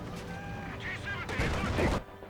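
Gunfire in the real-time strategy game Company of Heroes pops in a quick, scattered cluster of shots beneath a commentator's steady talk, growing busier toward the end.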